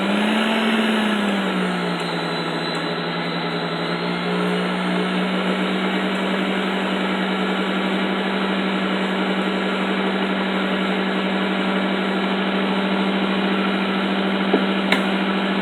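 An electric mixer whirs steadily as it beats eggs into cheesecake filling, a loud continuous motor whine with a slight pitch dip at the start, then holding even for the rest.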